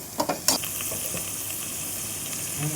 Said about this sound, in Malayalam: മാരിനേറ്റ് ചെയ്ത് ചിക്കൻ ഫ്രൈ ചെയ്യാനായിട്ടിട്ടു.